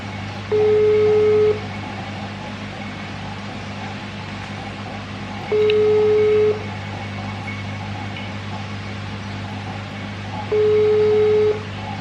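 Ringback tone on an outgoing phone call, three short steady tone bursts spaced about five seconds apart over a constant low hum of background noise, with no talking.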